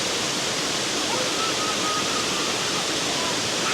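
Tamaraw Falls pours in a dense, steady roar of falling water, close and loud, with no break across the few seconds.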